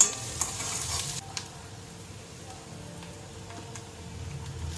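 Chopped onions sizzle and hiss in a hot pan while being stirred for a frankie, with a louder clatter at the start settling into a steady frying crackle.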